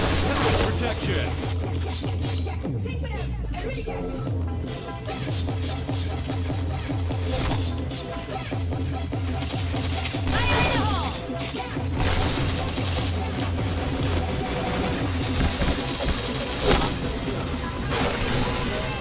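Rapid volleys of gunfire from a shooting video game, repeated bursts and booms over a busy soundtrack, with someone talking throughout.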